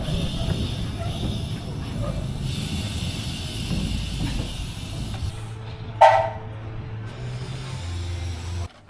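The Cleethorpes light railway train, a small seaside miniature line, rumbles along steadily with a low rolling drone, a sharp hiss of steam partway through, and a low idling hum as it draws to a halt.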